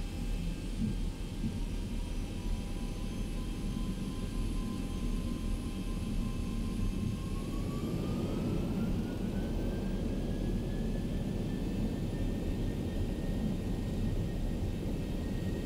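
Airliner jet engines spooling to takeoff thrust in the X-Plane 11 flight simulator on a runway, a loud steady roar with a rising whine that climbs midway and then holds, with no talking.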